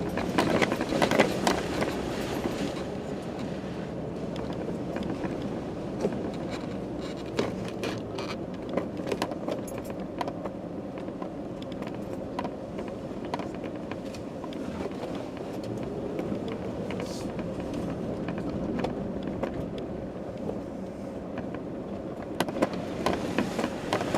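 Off-road vehicle grinding through a mud hole full of loose rock, a continuous low rumbling drive with rattles and knocks from the rough trail, heard at a steady middling level.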